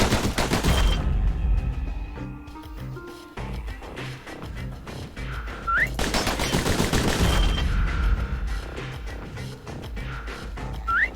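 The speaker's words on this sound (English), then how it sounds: "Those pistols could spit out rounds just as quick as you could pull the trigger." Rapid bursts of pistol gunfire from the Bastion video game, shots crackling in quick succession over a steady backdrop of game music and effects, loud and continuous throughout.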